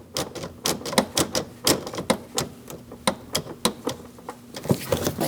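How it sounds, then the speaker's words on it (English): A hose clamp is tightened on a 2006-2011 Chevrolet HHR 2.4L four-cylinder engine, giving rapid close clicking and ratcheting taps in uneven bursts. "Tighten up your hose clamp in the back"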